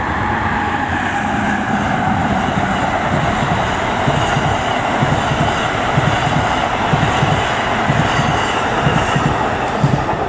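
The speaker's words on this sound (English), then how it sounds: "Here comes the train." A through train rumbles past on its line, loud and close for the full ten seconds as a steady roar with rattling wheels and a faint squeal, no voices over it.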